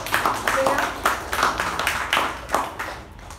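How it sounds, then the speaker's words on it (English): A handful of Toastmasters club members clapping for a speaker at a meeting, with distinct individual claps in a loose, uneven rhythm, close and moderate, fading near the end. "a big round of applause to Toastmaster Shreya"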